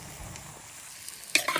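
Beef pigar pigar fries with a soft, steady sizzle in a pan as it is stirred, ending with a few louder scraping clatters near the close.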